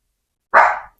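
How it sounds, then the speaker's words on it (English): A single sharp dog bark rings out indoors, loud and close, followed by a brief faint yip at the end, with silence before it. "the dogs are barking"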